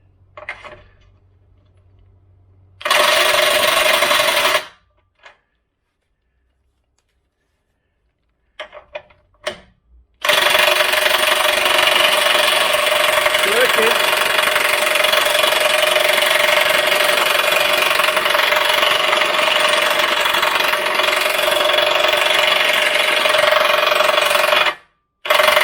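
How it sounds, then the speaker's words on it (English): An impact driver undoes and tightens exhaust pipe bolts on a Jaguar V8, roaring in loud hammering bursts: a short one early, then a long sustained run, separated by near silence. "gonna put the impact driver back on as a slightly gentler action, and we'll tighten it back up first."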